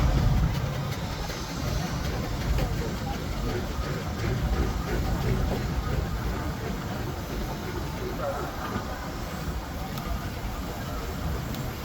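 Steam compound agricultural engine running at a steam rally, a steady hissing, chuffing rumble with soft mechanical clatter, continuous and fairly close, while a commentator talks over it.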